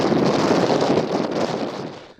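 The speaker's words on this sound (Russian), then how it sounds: "У нас сейчас дует 9-10 метров северо-западного ветра, снежок идет" Strong 9-10 m/s northwest wind with light snow in Tiksi, Arctic Russia, roars steadily across the microphone, a dense rushing buffet that eases off slightly toward the end.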